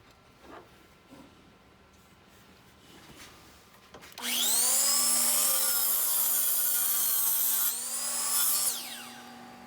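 Power saw cutting through three stacked wooden boards at once, a loud whining cut that starts abruptly after quiet handling noises, dips in pitch under load, then briefly surges before winding down.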